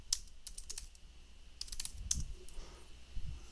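Quiet clicking keystrokes on a computer keyboard come in two short bursts of typing separated by a pause, set against a soft background hiss.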